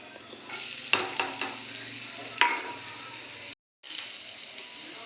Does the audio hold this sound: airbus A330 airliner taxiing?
no